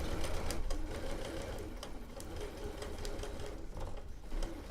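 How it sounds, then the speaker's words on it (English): A sewing machine stitches a quilt block seam in a steady, close whirring run of rapid needle strokes, continuous and even for the whole stretch with no talk. "I always take 1 or 2 stitches, couple stitches, put it in the needle down."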